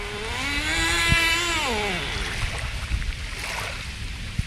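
An F1 motorboat on the choppy Laguna de los Padres near Mar del Plata, its outboard engine whining, then dropping in pitch and sputtering as if choking from a carburetor fault, over wind and water noise.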